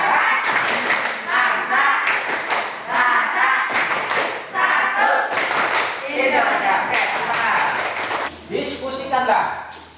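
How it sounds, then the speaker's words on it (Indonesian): A school class performs the Sumpah Pemuda rhythmic clap chant, loud close bursts of group clapping in patterned phrases alternating with voices chanting together, with brief pauses between sections. "Kita tepuk sumpah pemuda lagi ya. Tepuk sumpah pemuda."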